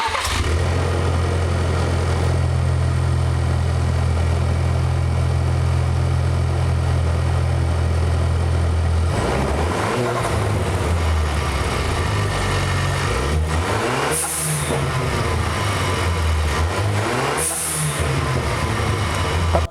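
A Ford Ranger fitted with an FXR kit has its engine idling steadily and loud up close, then revved a few times, with short rising bursts near the end and no talking.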